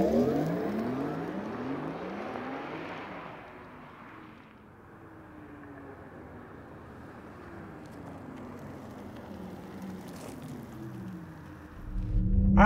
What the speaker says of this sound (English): Let's get electrified and go on throttle in our 2022 Taycan Sport